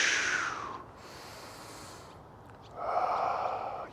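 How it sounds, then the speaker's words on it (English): Deep, audible breathing during a low-impact strength workout, a long breath at the start and another near the end with a quieter pause between, close and fairly soft. "Breathe in, breathe out."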